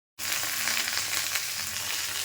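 Meat frying in a pan gives a steady, dense sizzle that starts abruptly and holds at an even, close level throughout, with no voices.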